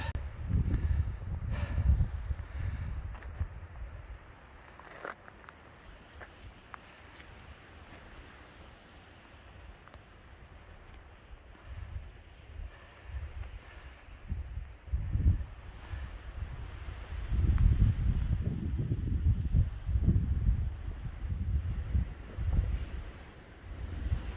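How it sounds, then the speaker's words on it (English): Cold, gusty wind on Roan Mountain along the Appalachian Trail buffeting the microphone in low rumbling bursts, rising and falling, with no voices. "Man, it is cold up here and windy"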